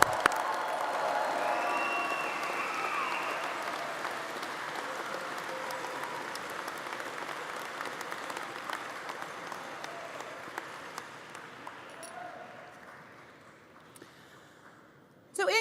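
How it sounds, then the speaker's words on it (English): A large crowd claps and cheers inside a university gym during a statistics and data science commencement. The broad roar of applause swells, keeps going, and then fades away into near quiet. "let's do one more big, huge round of applause"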